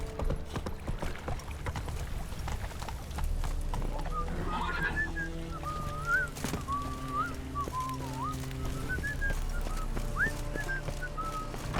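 Hooves of the horse Roach clip-clop steadily through a medieval town in The Witcher 3, with birds whistling and faint ambient voices around the mount.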